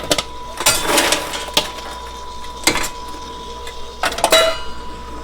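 Popped popcorn dumped from the kettle of a popcorn machine, heard as several separate metallic clanks and rattling bursts of a tipping kettle, fairly close and loud, with brief quiet gaps between them.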